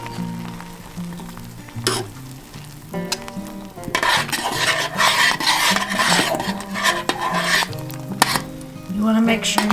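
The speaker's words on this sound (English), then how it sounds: "You want to make sure you're stirring it" A spoon scrapes and stirs around a pot of simmering elderberry syrup with ginger on the stove, with rhythmic rubbing strokes and a bubbling sizzle that swells louder midway, close up.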